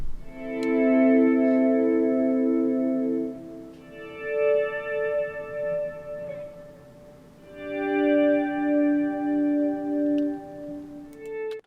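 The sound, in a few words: electric guitar swell with volume pedal, reverb and delay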